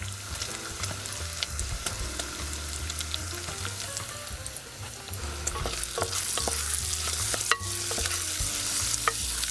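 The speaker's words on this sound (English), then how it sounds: "I'm getting some doneness on this bacon." Bacon fries in a pan for a Creole-Caribbean black bean stew, with a continuous close sizzle broken by sharp crackles and pops, over a low steady hum.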